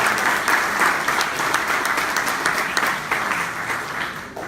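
Audience applause at a book launch held at the VII PLENAFUP: dense, steady clapping from a sizable crowd, loud and close, sustained for several seconds before slowly thinning out.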